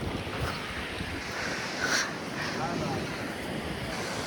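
Sea waves wash onto the shore at a beach near a Ganesh temple at Ganpatipule on the Konkan coast, a steady broadband surf roar with wind buffeting the microphone and a slight swell near two seconds.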